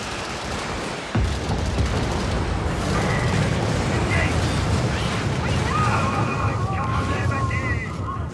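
A Shredder artillery strike fired for effect in a military video game lands after a sudden onset, then a heavy, sustained rumble of overlapping booms and blasts rolls on loud and dense.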